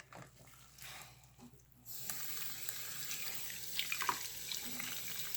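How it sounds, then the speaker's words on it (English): Tap water runs into a sink while fidget toys are washed, a soft trickle at first that swells into a steady, louder rushing stream with small splashes from handling. "Gotta lift that back up so the water drains out."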